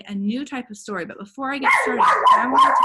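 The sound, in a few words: dog barking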